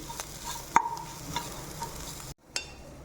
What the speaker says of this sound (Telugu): సో ఇప్పుడు మనం రైస్ వేసేసుకుందాము, మంచిగా మిక్స్ చేసి.